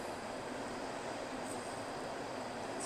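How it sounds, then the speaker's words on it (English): A long Amtrak train passes close by, its steady broadband rumble and rail roar holding at constant loudness throughout with no talk. "how long's this train?"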